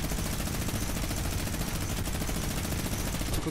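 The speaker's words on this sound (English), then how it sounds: "You have minigun, just take him from afar" Minigun fire in the video game Fortnite, a continuous rapid-fire rattling burst that holds loud and steady for a few seconds without pause, with no talking.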